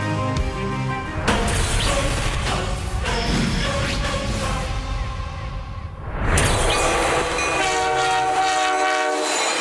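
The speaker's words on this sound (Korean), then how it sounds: "레일 위에서 만들어내는 열차 특유의 소리" A high-speed train runs along the rails with a steady rumble and clatter of wheels, punctuated by a loud horn blast, heard up close for nearly ten seconds.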